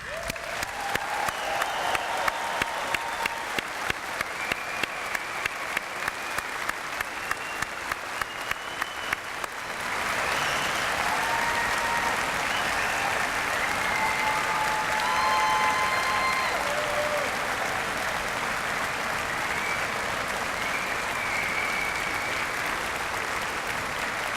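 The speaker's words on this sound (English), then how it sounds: "our newest graduating class deserves a big round of applause" A convocation audience applauds a graduating arts class, first with steady rhythmic clapping, then swelling into sustained, dense applause from a large hall crowd that continues loud and even to the end.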